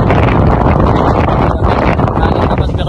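Strong wind buffets the microphone in a steady, loud roar with low rumbling gusts and no pauses, on the Apao Rolling Hills in Abra.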